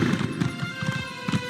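A summoned horse trots in Elder Scrolls Online, with steady close hoof clip-clops in a quick rhythm and faint game ambience behind them.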